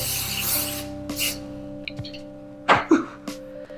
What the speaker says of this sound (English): We're just gonna spray that.